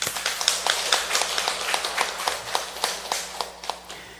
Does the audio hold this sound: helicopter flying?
no